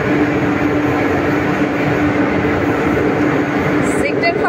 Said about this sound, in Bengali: সেক্টর 5 এর দিক থেকে ট্রেন ঢুকছে।